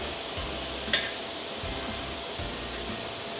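Prosciutto and other ingredients being stirred together in a pan give a steady, moderate sizzle with soft scraping, continuous and close, with no talk over it.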